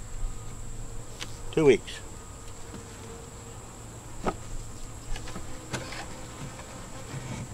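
Bees buzz around an open beehive whose frames are being worked, a steady close insect drone with a few louder passes near the microphone and a brief spoken phrase.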